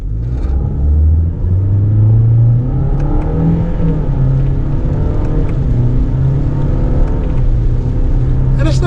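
2026 Toyota Corolla SE hatchback with a regular CVT accelerating hard under paddle shifts in manual mode, loud steady engine drone rising in pitch inside the cabin, with brief shift breaks.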